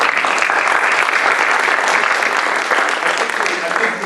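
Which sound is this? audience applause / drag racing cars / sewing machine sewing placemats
audience applause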